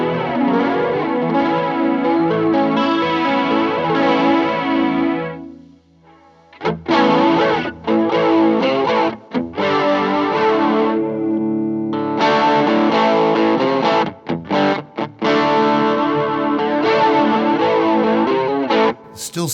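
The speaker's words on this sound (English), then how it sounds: "Turn on the Past Effects Chorus Ensemble." Electric guitar on a clean amp through a Boss IR-2 with reverb and a chorus ensemble effect, shimmering wide strummed chords ringing out loud with brief pauses between phrases.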